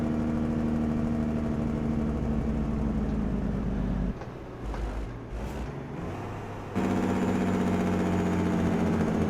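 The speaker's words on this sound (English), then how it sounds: "What an absolute glorious engine noise that is, eh?" A truck engine idles in the video game American Truck Simulator with a steady low rumble, briefly dropping in pitch and level mid-clip before resuming its even drone.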